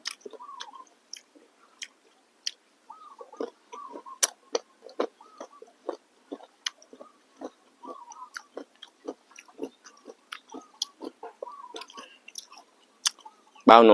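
Close, crisp crunching as someone bites and chews sour green mango dipped in a sweet chili fish-sauce dip, with irregular bursts of crunches separated by brief quiet pauses.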